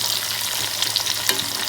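Prawns (chemmeen) frying in hot oil give a steady, dense sizzle with a few crackles and one louder pop, close up and with no talking.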